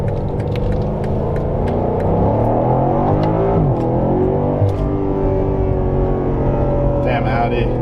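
An Audi accelerating hard on a winding road, heard from inside the cabin: a loud, sustained engine roar with rising and shifting pitch through gear changes, continuous throughout.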